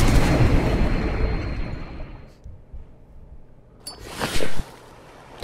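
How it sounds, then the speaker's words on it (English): Explosions in the survival game Stranded Deep: a loud rumbling blast that fades over a couple of seconds, then a quieter lull before a sharper second burst and crackle. "Things are exploding."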